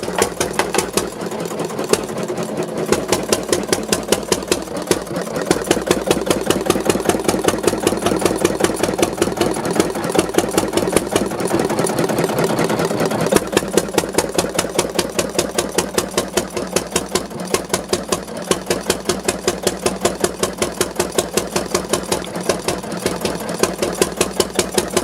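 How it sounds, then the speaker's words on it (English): An early 20th-century German Schlüter single-cylinder, low-speed evaporation diesel stationary engine with a large flywheel runs steadily, a loud, rapid, even chugging that continues without a break throughout. "German stationary engine by Schlüter, produced in the early 20th century. It is an evaporation diesel engine, Verdampfermotor"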